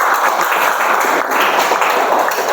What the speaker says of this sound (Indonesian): Beri tepuk tangan ya bagi temannya ya.